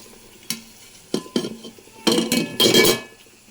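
Fried broad beans are scooped out of a pan into a bowl in several separate bursts: scraping, clinking and rattling of the spoon and pieces, with faint sizzling in between.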